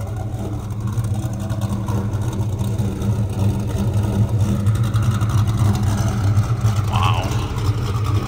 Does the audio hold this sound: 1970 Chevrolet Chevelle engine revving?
yes